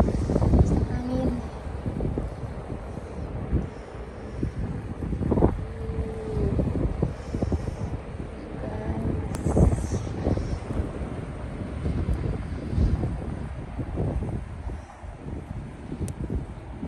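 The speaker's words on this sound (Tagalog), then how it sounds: "ang lakas ng hangin" Strong wind gusting through falling snow at the onset of a snowfall, a steady rushing roar with buffeting bursts against the microphone, faint voices now and then beneath it.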